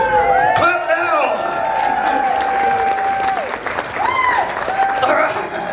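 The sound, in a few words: audience applause after chainsaw juggling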